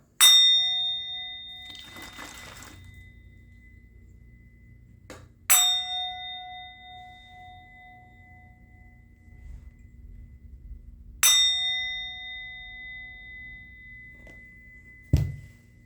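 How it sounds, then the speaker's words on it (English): A metal bell rings three times at roughly five-second intervals, each strike bright and clear with a long fading ring, followed by a softer thud at the end, with no talking. "I'm going to ring the bell."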